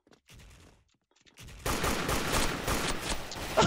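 Bursts of rapid gunfire from a Thai military-style rifle in a first-person shooter match, loud and dense after a quiet opening with faint earlier shots, continuing in sustained volleys to the end.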